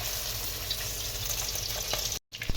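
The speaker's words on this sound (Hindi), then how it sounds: "सरसों का तेल जो है हमारा रेडी है, गर्म हो चुका है। तो एक एक पीस डाल देते हैं।" Chicken pieces sizzle and fry in hot mustard oil, a dense close crackling hiss with small pops, broken by a brief cut of silence near the end before the frying resumes; no one speaks.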